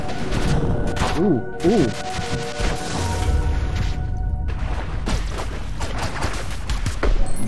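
Gunfire bursts and impact crashes from the video game Owlboy during a pirate battle, dense repeated shots and booms layered over game music, with a player's brief exclamations on top.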